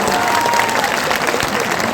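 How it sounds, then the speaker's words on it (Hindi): Crowd clapping at a Samvidhan Bachao rally, steady dense applause filling the whole moment with a busy outdoor mass of hands and some crowd noise. "ताली बजाओ"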